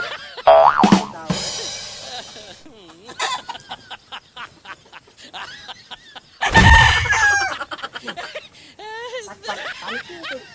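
A rooster crows loudly and clucks close by in a rural setting, with several bursts of calls spread across the scene. Lively voices chatter and laugh around and between the calls.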